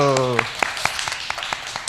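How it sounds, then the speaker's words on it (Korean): A small audience at a lecture breaks into scattered applause, a thin run of separate claps following a brief voice at the start, fairly quiet and sparse. "네, 박수."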